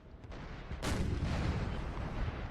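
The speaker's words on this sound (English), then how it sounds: "artillery's getting some hits" Artillery fires in a Napoleon: Total War 3 battle with the Prussian army. A few faint, distant pops come first, then a loud boom at about one second that rolls on into a long, rumbling decay.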